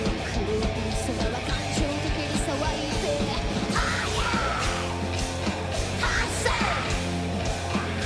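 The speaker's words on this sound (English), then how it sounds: "Oh, I like that banshee scream." A female lead singer's high banshee-style scream in a live metal song, piercing over a dense wall of distorted guitars, drums and bass, sustained near and loud throughout.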